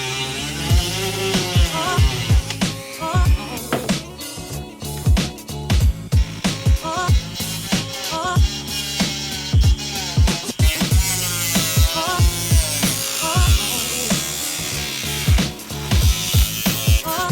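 A power cutting tool trimming excess carbon fiber overlay off a car hood vent, a continuous harsh high-pitched grinding whine that rises and falls as it bites into the material, loud and close for the whole stretch.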